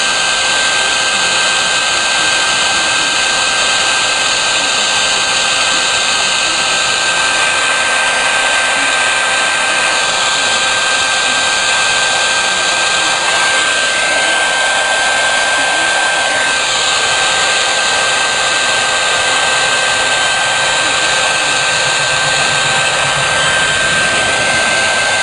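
Heat gun blowing hot air in a steady, loud, unbroken roar that holds nearly constant throughout, with only slight shifts in tone and no talking.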